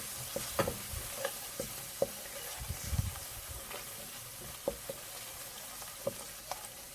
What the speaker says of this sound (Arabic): ولا ما نقليش برشا خاطر هو زيت زيتونه